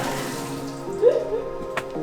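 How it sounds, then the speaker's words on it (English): Running water from a tap at a campsite on Great Barrier Island, a steady splashing flow, close and moderately loud, with a brief exclamation and small sounds over it. "Water! Running water."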